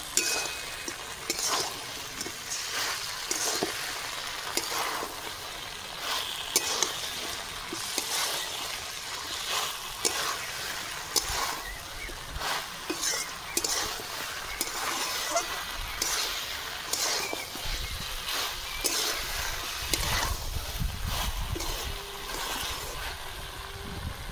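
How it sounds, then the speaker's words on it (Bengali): Chicken stirred in spiced masala in a hot pan, a long stretch of close sizzling with repeated spatula scrapes and metal clinks in an uneven rhythm. "সব কিছু মশলা কষানো হয়ে গেছে, চিকেন দিয়ে দেবো। ভালো করে নাড়বো।"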